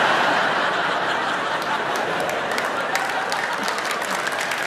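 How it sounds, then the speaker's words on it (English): A comedy festival gala audience applauds in a dense, steady round of clapping, with some laughter mixed in. "Thanks for that round of applause."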